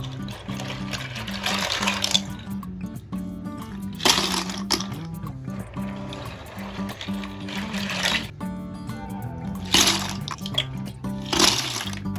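Water is poured into a washer for cleaning gecko dishes, coming in several splashing, gushing bursts between quieter trickling stretches.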